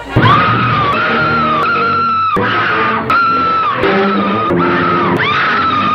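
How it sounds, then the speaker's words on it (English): A woman in the King Kong film screams again and again in long, loud, high-pitched wails, each one breaking off briefly before the next begins, with no talk over them. "the screaming just gets a little old after a while"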